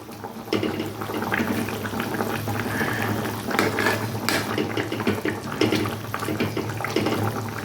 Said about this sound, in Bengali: এইভাবে আমি এখন মাছগুলো একটু ফুটিয়ে নেব গ্রেভির মধ্যে